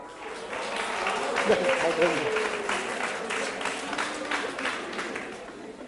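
Students clap in a university mathematics lecture hall, a steady wash of moderate applause lasting throughout, with some voices underneath.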